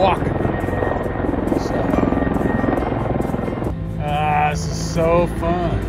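A helicopter drones steadily overhead with dense rotor chop, fairly loud throughout, while voices talk faintly underneath.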